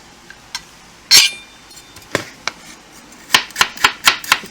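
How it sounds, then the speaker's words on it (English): Knife slicing a peeled carrot into circles on a board, a few scattered cuts followed by a quick, even run of six or so crisp chops, close and clear with no talking. "The carrot he's just going to slice into circular."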